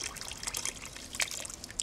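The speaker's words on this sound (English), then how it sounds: "just leave them under the tap for about 5 minutes, just until the water becomes clear" Water from a kitchen tap trickles and splashes steadily over cut potato chips, a soft continuous patter with small irregular bursts, close by and with no voices.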